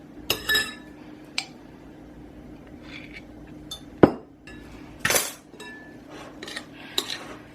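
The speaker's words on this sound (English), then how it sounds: "I am supposed to put in 2 tablespoons of the raw honey and coat the blueberries in it." Blueberries being coated with raw honey in a bowl, heard as several sharp, spaced spoon clinks and scrapes against the bowl in a quiet kitchen, with no talking.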